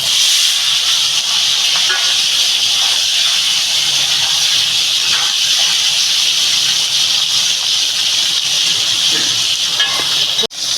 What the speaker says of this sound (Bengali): বন্ধুরা আমি এবার এই ট্যাংরা মাছটা ঢেলে দেবো